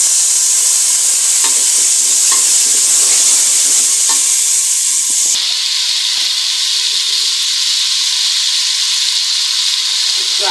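Garlic paste sizzles and spits in hot oil in a pot for beef trotter nihari, a loud close steady hiss with a few stirring scrapes, settling into an even sizzle.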